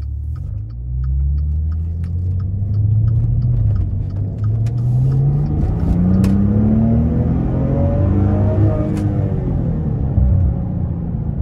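A 2017 Maserati Ghibli SQ4 with all-wheel drive accelerates hard out of a corner, its engine rising in a loud, sustained growl that climbs through the revs and holds strong, heard from inside the car.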